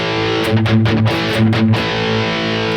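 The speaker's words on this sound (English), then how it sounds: "So the dry signal sounds like this." A dry, slightly distorted Harley Benton Fusion electric guitar through a BOSS GT-1000 plays a short riff of chords and notes, with no added effects and no talking.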